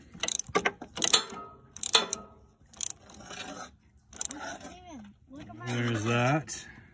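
A wrench clicks in short ratcheting bursts, tightening a new grease fitting on a machine, with several separate runs of clicks close by and a voice speaking between them.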